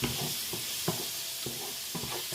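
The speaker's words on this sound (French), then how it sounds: "quand on va déglacer, donc encore une fois, soit au vin blanc, soit à l'eau" Sautéed onions sizzle in a pan as broth is added to deglaze, a steady bright hiss broken by soft stirring scrapes at regular intervals, with no talk.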